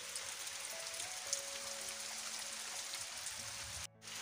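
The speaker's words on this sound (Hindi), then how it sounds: "यहां पे बारिश बहुत तेज हो रही है" Heavy rain pours steadily in a rural village yard where goats are tied, a dense close hiss with a few faint tones underneath, ending in an abrupt cut.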